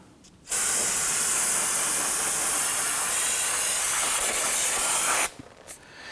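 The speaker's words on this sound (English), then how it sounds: "use some spray solvent to clean this down and get all that brake dust off" A steady, loud aerosol spray of brake cleaner solvent hisses continuously for about five seconds, close up on a brake assembly, then cuts off abruptly.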